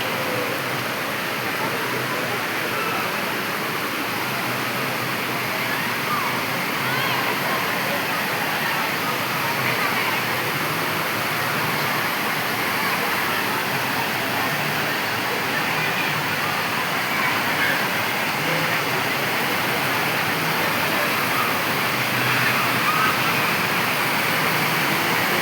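Water flows steadily at Dama Kund in Bhavnath, Junagadh, below Girnar. A continuous, even rush keeps a constant level for the whole stretch without any break.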